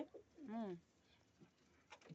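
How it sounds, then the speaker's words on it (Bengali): Pigeons kept in a loft coo close by, one long rising-and-falling coo standing out among shorter calls and scuffles as birds squabble, with faint talk around them. "আমার কবুতরগুলো সব কেমন ক্ষোভে বসে আছে। এই দেখো, এখানে সব মারপিট করছে"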